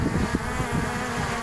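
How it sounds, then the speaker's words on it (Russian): Strong outdoor wind rumbles and buffets beside a hovering Mavic Air 2 drone inspecting an air conditioner's outdoor unit, with a steady whirring drone buzz under the gusts. "Кстати, вот сейчас довольно сильный ветер"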